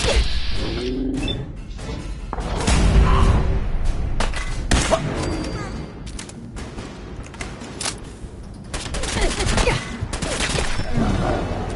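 Gunfire in Fallout 4, a dense run of shots and impacts with crashing hits and whooshes, loud and busy throughout with brief faint voices under it.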